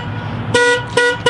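An aftermarket alarm on a loud Mustang blares in two harsh, buzzy honks separated by a brief pause, close and loud over a low rumbling idle, with a third blast just starting at the end.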